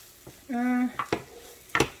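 Diced mushrooms and a diced onion go into a pan of drained hamburger, giving a brief sizzling hiss with a steady tonal hum, then a few sharp clatters of a utensil against the pan.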